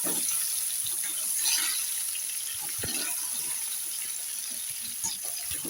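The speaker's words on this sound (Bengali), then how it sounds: "এটা একটু ভেজে নিচ্ছি আগে" Small potatoes fry in a pan for aloo dum, giving a steady, close hiss of oil that runs unbroken with a few faint clicks and no voices.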